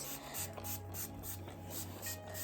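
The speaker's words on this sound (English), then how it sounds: "I go in with the spray, try and get it as wet as possible" Rapid, rhythmic hisses of a spray bottle misting water onto curly hair close by, repeating steadily over a low hum.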